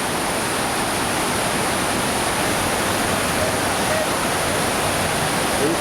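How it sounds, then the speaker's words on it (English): River water at a Himalayan crossing used by motorbike riders roars in a dense, unbroken rush. It is loud and steady throughout, like a nearby torrent. "Here's Bruce attempting the first difficult water crossing"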